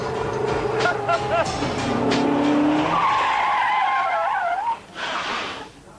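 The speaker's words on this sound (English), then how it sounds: "you get the tyres squealing" Car tyres squealing during a precision driving display at a live motor show, a loud sustained screech with a rising pitch sweep that lasts several seconds, then cuts off abruptly, with voices and crowd noise around it.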